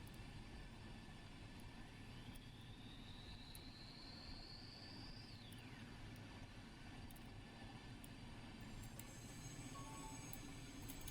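A train runs on rails in a Roblox train simulator game, giving a steady broad rumble and hiss with a long rising then falling tonal squeal partway through, continuous and fairly close with no voices.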